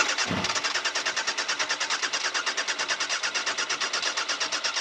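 A cold engine catches with the choke on and settles into a fast, even, pulsing idle, close and fairly loud, with a rapid steady rhythm after a brief start-up burst.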